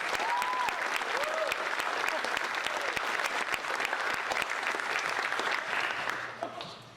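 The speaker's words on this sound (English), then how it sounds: "Give her a big round of applause." An audience at a high school senior awards ceremony applauds the valedictorian with sustained, dense clapping, steady for several seconds before tapering off at the end.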